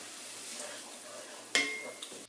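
Ground meat browning in a pan for soft tacos gives a steady low sizzle, broken near the middle by a sharp clatter of stirring and a brief metallic ring before it fades.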